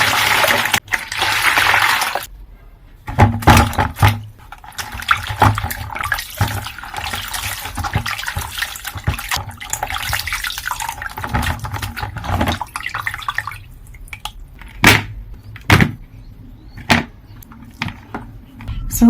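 Corn on the cob being washed under a running tap, a steady rush of water with splashes and handling knocks, close and fairly loud, with a few sharp clunks near the end.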